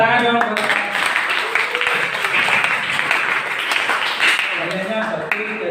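A classroom audience claps for a student, a dense burst of many hands that swells and then holds steady, with a teacher's voice heard before and after the clapping.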